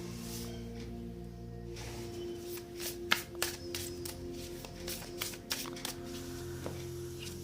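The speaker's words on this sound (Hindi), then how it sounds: "Let me shift cards a bit." Tarot cards are shuffled by hand in a quiet room, soft papery riffles and taps scattered over several seconds, faint and close, with a low background hum.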